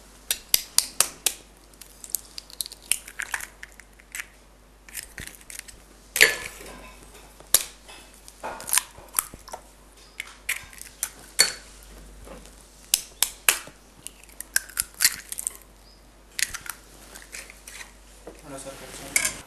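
Four whole eggs for a mango cake being beaten in a bowl, heard as quick irregular bursts of clinking and tapping against the bowl, close and crisp, with short pauses between bursts.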